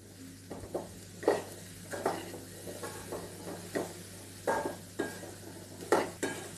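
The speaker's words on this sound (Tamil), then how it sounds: "நல்லா ஒரு கிளறி விட்டு ஆஃப் பண்ணிடலாம்." Spoon scraping and stirring masala chickpea sundal with grated coconut in a pan, heard as intermittent soft scrapes and clinks over a low steady hum, close and fairly quiet, with no talking.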